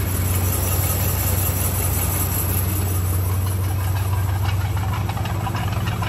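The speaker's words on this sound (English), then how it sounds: "She's cranking." A 1979 Chevrolet K10 truck engine, abandoned for over twenty years, runs at a steady idle, a loud continuous low rumble with no pauses or voices.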